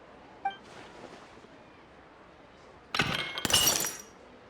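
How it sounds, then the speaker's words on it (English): A vase shatters in the Genshin Impact video game: a sharp glass break with a second crash right after it, loud against a quiet backdrop following a faint chime. "Look at the vase. Did someone break it while they were cleaning the room or something?"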